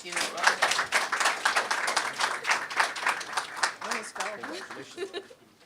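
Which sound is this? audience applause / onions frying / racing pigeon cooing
audience applause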